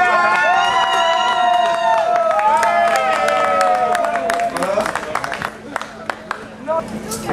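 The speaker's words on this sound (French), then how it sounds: "encore un grand applause, donc des applaudissements" Festival crowd applauding and cheering for a guitarist, clapping and whoops mixed with lingering musical tones and crowd babble, the applause thinning into scattered sharp claps toward the end.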